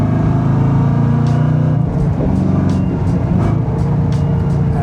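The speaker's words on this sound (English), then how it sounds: "There's that little bit of that noise. I like that supercharger." Supercharged Revology Mustang Boss 429 restomod engine revving loud and close, a deep steady rumble that rises and falls, with faint supercharger whine over it.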